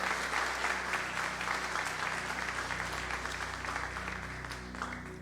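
Congregation in a church applauding steadily and fairly loud, a dense continuous clapping that holds for several seconds before easing slightly, with a low sustained tone underneath.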